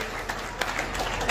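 A crowd at a radio-gifting event in honour of the Mann Ki Baat museum applauds, brief dense clapping at a steady moderate level.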